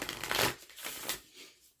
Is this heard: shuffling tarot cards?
yes